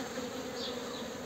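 Honey bees buzz steadily around a hive frame during queen introduction, a soft continuous hum with no breaks.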